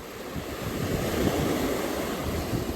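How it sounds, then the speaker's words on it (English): Ocean waves wash onto the shore in a steady, close surf that swells gently, with a full, continuous rush and no voices. "As you open up to that great expansive ocean in front of you"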